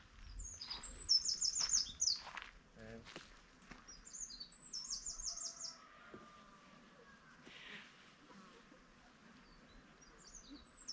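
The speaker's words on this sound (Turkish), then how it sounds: "Sabah kalkıyorsun, kuş sesi." Birds chirp and tweet in short bursts at a moderate distance, over a quiet outdoor background with occasional faint rustling.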